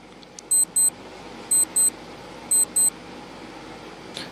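Quiz countdown timer beeping in three evenly spaced pairs of short electronic tones over a low, steady room hum, with no one talking.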